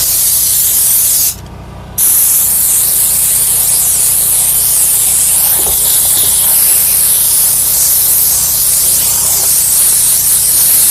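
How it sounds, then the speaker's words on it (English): A steam cleaner blasts a loud, steady hiss of steam onto steps, the spray cutting out briefly for under a second before resuming and running continuously. "the steamer is doing pretty good"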